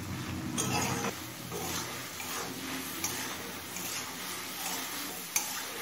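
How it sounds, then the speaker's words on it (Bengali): Mustard greens cooking on a high flame as the water dries off make a soft, steady sizzle with intermittent spoon scrapes and light clinks against the pot, quiet and close, without speech. "এবার এই জলটা শুকিয়ে আসা পর্যন্ত হাই ফ্লেমে কিছুক্ষণ রান্না করে নেব"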